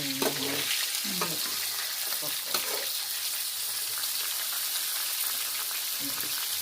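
Food fries in hot oil in a pan during home Thai cooking, giving a steady close sizzle with stirring scrapes throughout, while a voice briefly murmurs near the start.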